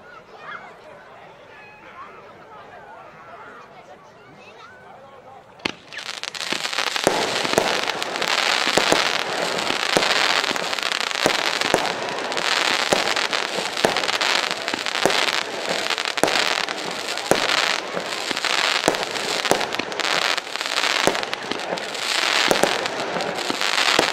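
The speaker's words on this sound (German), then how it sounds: "Die Snowline, eine 25 Schuss Batterie, Firma Funke, feuerfreie Snowline." A Funke Snowline 25-shot firework battery fires after a few quiet seconds, its shots bursting in quick succession with loud crackling that fills the rest of the run, while faint voices murmur in the background.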